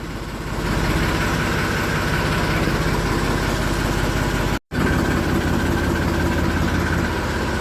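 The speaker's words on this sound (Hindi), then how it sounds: "अब ट्रैक्टर को बाहर निकालते हैं" A tractor engine idles steadily while being driven out on a farm, a loud, continuous low rumble with a constant throb that cuts out for a split second midway and then resumes unchanged, with no voices.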